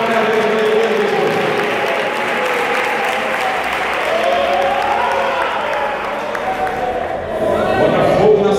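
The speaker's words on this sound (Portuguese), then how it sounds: "bate palmas para Jesus" A church congregation claps its hands in sustained, dense applause with some cheering voices, filling the room throughout.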